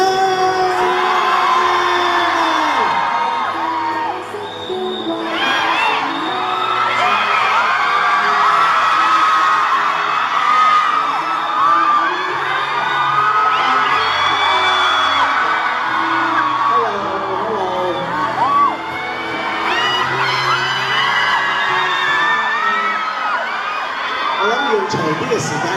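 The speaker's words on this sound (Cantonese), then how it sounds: "俾啲掌聲有請！" A crowd at a live event cheers, whoops and shouts continuously for over twenty seconds, loud and dense, with voices calling out and children yelling through it.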